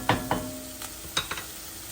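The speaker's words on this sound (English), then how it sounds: "Saute the onions for maybe 3 minutes" Diced onions saute in a skillet, a faint sizzle under a few soft stirring scrapes and clinks spaced through the moment.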